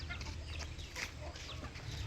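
Hens on a poultry farm cluck and murmur in a busy, overlapping chorus, fairly soft and close, with scattered sharper calls over a steady low background.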